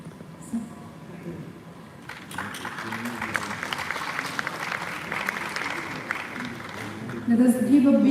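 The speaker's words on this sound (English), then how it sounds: "Let us give a big round of applause to these young achievers." An audience at a university award ceremony applauds young achievers. Steady crowd clapping begins after a quiet start and swells toward the end, with a voice talking over it.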